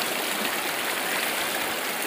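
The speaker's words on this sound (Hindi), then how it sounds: "पानी का भाव बहुत तेज है" Fast-flowing stream water near an off-road track by the Surya Devi Temple in Golapar rushes in a loud, continuous broadband roar, close and steady with no pauses.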